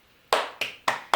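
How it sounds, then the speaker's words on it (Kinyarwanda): Hand claps, four sharp, evenly spaced slaps close by, each ringing briefly before the next, with no voices. "umuha amashyi menshi"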